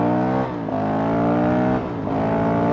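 A Honda CRF 450 RL motorcycle with an aftermarket ECU accelerates hard on a road, its engine note climbing in pitch through two gear shifts, loud and close.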